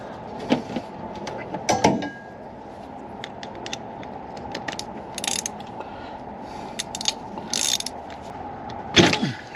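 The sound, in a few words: socket ratchet loosening spark plug, 2000 Ford F250 5.4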